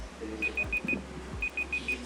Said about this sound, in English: Once the timer reaches 0, it starts beeping